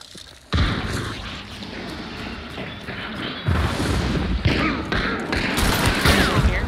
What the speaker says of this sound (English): I'm gonna throw a flash bomb inside.